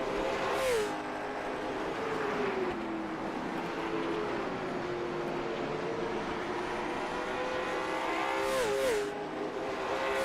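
Race car engine from a racing video game at the Kern track, a steady sustained drone with shifting pitch, gear changes near the start and again near the end, loud and continuous with no talk.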